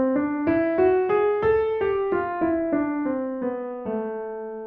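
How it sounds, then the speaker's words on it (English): Piano plays a melodic minor scale, with single notes stepping evenly up and then back down, close and clear with no talking. "the third type is the melodic minor scale"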